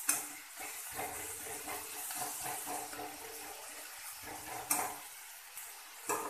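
Spice paste cooking in a pan with ginger and garlic paste for a tilapia curry: a soft, moist sizzle under repeated stirring scrapes, with a couple of louder spatula knocks.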